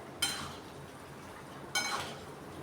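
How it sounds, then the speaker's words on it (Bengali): Metal pot lid lifted twice over lentil fritters boiling in a curry, each a brief clink followed by a soft hiss of steam and bubbling, close but quiet, no talking. "এখন আমি ঢাকা খুলে দেখবো কতটা ফুটেছে আমার বড়া।"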